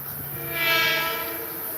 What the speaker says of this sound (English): That was its horn.